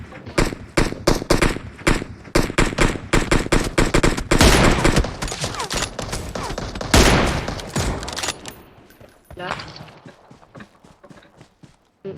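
Rapid bursts of gunfire from an online shooter game crack and rattle in quick clusters, loud and close, thinning out toward the end into scattered shots.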